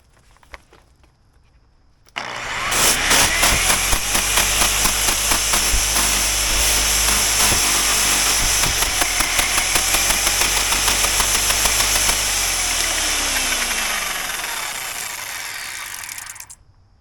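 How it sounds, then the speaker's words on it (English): A power wire brush spins up and grinds steadily against aluminum, a loud, continuous rough whir with a rapid chattering texture that runs for about fourteen seconds before winding down, with no talk over it. "I'm just gonna turn this thing on, just nail it a couple times with the wire brush"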